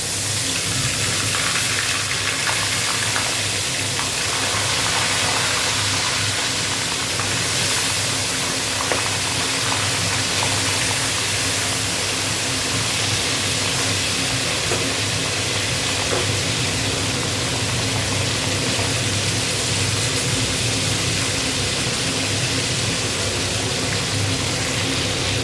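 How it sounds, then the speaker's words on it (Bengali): Fish rubbed with salt and turmeric frying in a pan: a steady, even sizzle that holds for the whole stretch with no break, no clear pops and no talk. "মাছটা ভেজে নিই।"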